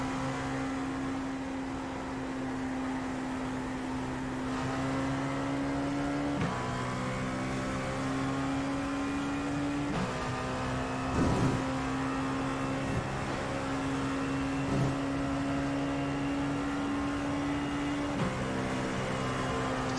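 An LMP2 prototype race car in the iRacing simulator at Road America drones at high engine pitch, shifting up and down through the gears as it accelerates and lifts, loud and continuous with no talk.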